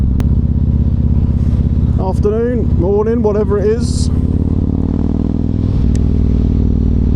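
A Yamaha MT-01 motorcycle engine drones steadily at a low rumble while riding, with a person talking briefly over it partway through.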